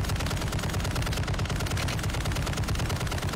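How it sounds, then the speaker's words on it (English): Sustained rapid automatic gunfire in a multiplayer shooter video game, dense continuous bursts filling the whole clip at close range and loud, with no talking over it. "I stopped talking because I was shooting at somebody."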